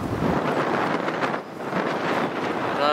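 Strong wind blowing through a forest, a loud continuous roar with gusty buffeting against the microphone and no talking.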